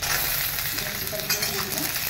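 Bell peppers and egg stirred in a hot pan for chilli egg, with a steady broadband sizzle and soft scraping strokes of the spatula, close and continuous with no talk.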